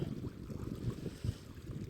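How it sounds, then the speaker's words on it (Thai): Low, buffeting strong wind rumbling against the microphone in uneven gusts beside a reservoir sluice gate, with a faint watery wash in the background. "ลมแรงมากๆนะครับตอนนี้"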